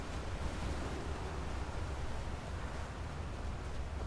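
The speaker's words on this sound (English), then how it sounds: "All I hear is water." Water waves in the video game Skyrim: a steady, loud, broadband wash of surf noise with no clear breaks, continuous throughout and heard alone.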